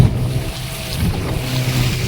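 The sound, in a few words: purse seine fishing boat on rough sea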